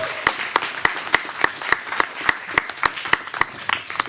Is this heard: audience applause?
yes